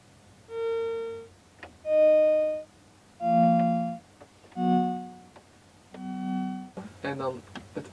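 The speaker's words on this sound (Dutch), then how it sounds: "dus ik heb daar ook veelvouden van toegevoegd." A homemade synthesizer plays five separate sustained electronic tones with rich harmonic overtones, each about a second long with short gaps between them, followed by a brief burst of other sound.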